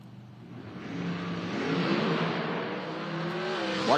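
Nitrous and ProCharger drag race cars launching down the strip at an IHRA Outlaw Nitro Series event, engine roar swelling over a few seconds from a distance and ending in a rising whine.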